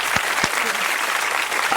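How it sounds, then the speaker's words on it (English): Audience applause after a magic act on a holiday variety show, a short burst of steady clapping with a couple of sharp thumps near the start. "Let's give her another round of applause"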